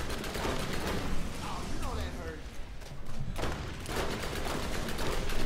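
Rapid automatic gunfire in Borderlands, a dense barrage of shots with explosive bursts mixed in, loud throughout and overlapped by people talking.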